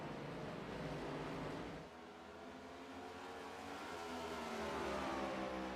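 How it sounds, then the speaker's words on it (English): A Next-Gen Cup Series stock car engine accelerates at Phoenix Raceway, a loud continuous roar whose pitch climbs steadily as the car builds speed, with no talk over it. "Colin Forster really starting to get on the loud pedal here"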